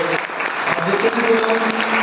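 An audience at a motivational meeting in Gopalganj claps together, a dense steady patter that carries on throughout with faint voices beneath.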